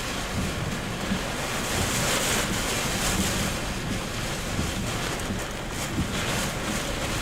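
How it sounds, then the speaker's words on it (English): Hurricane-force wind at Surfside Beach, Texas, during Hurricane Nicholas's landfall roars continuously with heavy microphone buffeting, mixed with rushing surf, loud and unbroken with slight surges in the gusts. "So the wind speed right now, we're definitely in that hurricane range"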